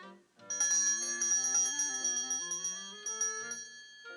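A bell on Owl's door, rung by pulling its bell rope, chimes in a quick series of bright, ringing strikes that overlap and fade, loud and close with no talking.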